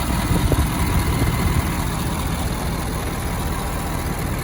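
A 2019 Ford F-250 Super Duty 4x4 with a 6.7 liter Power Stroke diesel idles with a steady, loud low rumble and clatter that holds even for several seconds, with no voices.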